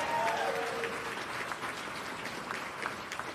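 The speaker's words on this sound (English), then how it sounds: "give him a round of applause" Applause from a crowd at a jigsaw puzzle competition's closing ceremony, a steady moderate patter of clapping heard from some distance, with faint voices mixed in.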